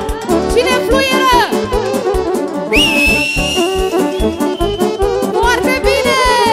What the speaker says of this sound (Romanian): Cine fluieră?